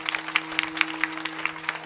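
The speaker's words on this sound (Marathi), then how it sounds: "मृदुंगाचार्य करता एकदा जोरात टाळ्या वाजा." Scattered applause from a kirtan audience honoring the mridangam player, with sparse, uneven claps over a steady background hum and no talk.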